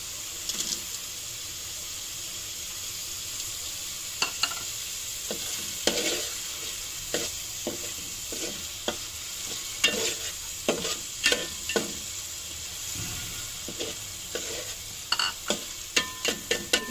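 Fish sautéing in a pan gives a constant frying sizzle, while a spatula stirs and scrapes with frequent sharp clinks against the pan, which grow busier toward the end. The sound is close and there is no speech.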